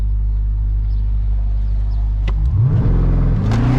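A supercharged BMW M340i engine idles with a low rumble, then revs up with a rising supercharger whine over the growl, loud and close.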